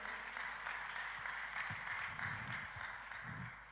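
A church congregation applauds during a sermon, a fairly distant, even wash of many hands clapping that swells and eases over a few seconds.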